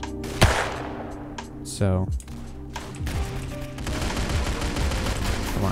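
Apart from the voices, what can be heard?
gunfire in Roblox Arsenal video game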